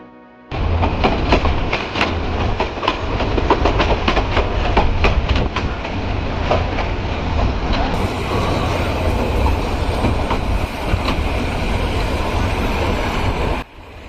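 Chittagong University shuttle train running past, a loud, steady rumble of rail cars with rhythmic clickety-clack wheel beats close by, continuing for most of the stretch before cutting off abruptly.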